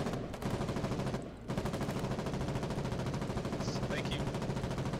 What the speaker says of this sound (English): There's a heavy machine gun in there.